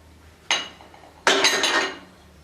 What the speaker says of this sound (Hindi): अब हम इसमें टमाटर शामिल कर देंगे